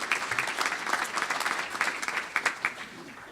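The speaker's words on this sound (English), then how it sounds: "You deserve a round of applause for that." Audience applause at a Charlotte Rotary club talk, a short burst of clapping from a modest crowd that rises and then tapers off.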